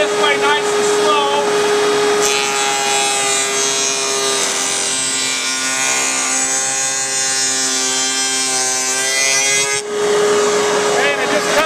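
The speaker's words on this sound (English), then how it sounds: "it just cuts a nice miter joint with the spline built into it." A power saw cuts a miter joint with a built-in spline into wood for a storage chest, a loud, steady whining drone lasting most of the clip, starting and stopping abruptly with brief quieter moments at each end.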